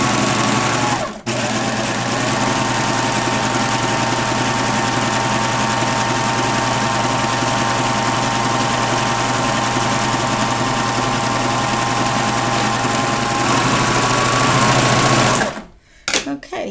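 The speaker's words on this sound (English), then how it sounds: "let's go ahead and stitch a little more of this." A Babylock sewing machine runs a wave stitch in one long, steady whirring stretch with a fast rhythmic hum, close and loud, then stops with a few clicks near the end.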